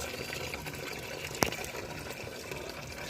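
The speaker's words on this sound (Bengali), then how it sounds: "একটা ছোট মগও আছে তোমার, জল ভরতে দেও" A small mug fills with water on a rooftop garden, a steady close rushing pour continuing throughout with one brief splashy burst midway.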